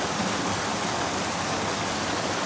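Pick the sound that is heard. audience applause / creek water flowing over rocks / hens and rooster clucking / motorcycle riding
creek water flowing over rocks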